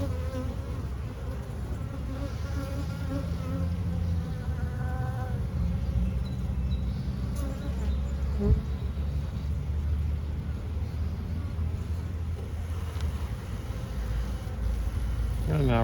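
A dense, steady hum of many bees fills an open hive during an inspection, close and continuous throughout, with soft speech underneath.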